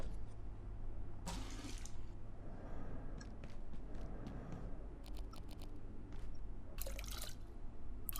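Washing off with running water in the video game Abiotic Factor: a steady wash of splashing, faucet-like flow runs through the clip, with brief brighter gushes and small drips, no talking.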